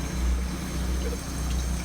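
RV hot water heater running out of sight, a steady low rumbling hum with a faint watery hiss, continuous and fairly quiet.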